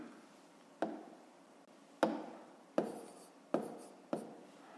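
Numbers being written on a board during a fifth-grade math lesson: five crisp, separate taps and strokes land at uneven intervals, each fading quickly against a quiet room with no talking.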